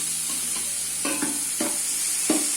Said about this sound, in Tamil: வெங்காயம், பச்சை மிளகாய், அந்த காரம் சேர்ந்து நல்லா வதங்கணும்.